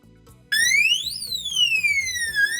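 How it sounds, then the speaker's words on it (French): A loud electronic alarm tone from an electronic safe, triggered by wrong code entries, starts abruptly and holds steady, its pitch sweeping up and then gliding slowly down, with faint background clatter. "notre coffre-fort est équipé d'une alarme qui se déclenche après 3 tentatives de saisie d'un code erroné"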